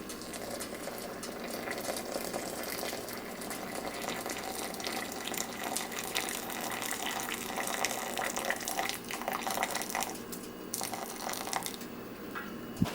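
Two cups of just-boiled water poured over a single tea bag in a Pyrex glass measuring container, a steady close splashing pour running continuously for about thirteen seconds with no talking.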